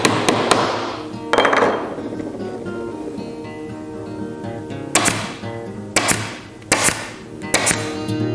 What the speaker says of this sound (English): And we can get that going with magnetic tack hammer.